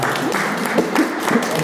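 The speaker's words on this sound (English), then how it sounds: "round of applause for George and Mr. Ellis" Applause from an audience at a panel discussion, a dense patter of clapping hands filling the room evenly for under two seconds, moderately loud with a faint voice beneath.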